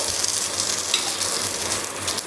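Corn rava appe fry in a pan with little oil, giving a close, continuous soft sizzle and crackle that holds steady throughout with no talking.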